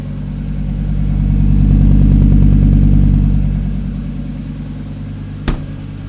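A Mazda Miata fitted with a five-cylinder engine runs steadily up close, its tone swelling to a peak and settling back to a lower hum, with a single sharp knock near the end.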